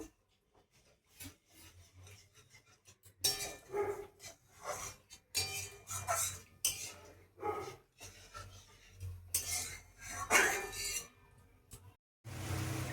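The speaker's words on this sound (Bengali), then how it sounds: "জলটা দিয়ে এটাকে ভালো করে মিশিয়ে নিচ্ছি মশলাটাকে" A spice masala paste is stirred with water in a pot for a chital fish muitha curry, making close, irregular rasping scrapes in uneven bursts, with no talking.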